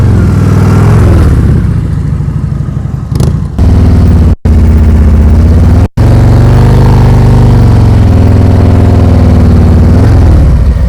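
A motorcycle engine runs loud and close throughout slow-speed riding practice, holding a steady idle-to-low-rev drone with brief throttle swells and two sharp cutouts, and no talk over it.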